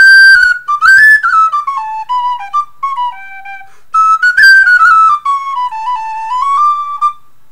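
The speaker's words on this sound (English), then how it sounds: "This is one of their models called the Melody." A Waltons Melody pennywhistle plays a lilting solo tune in two phrases of quick, ornamented notes that step downward, close and clear with a short pause between the phrases.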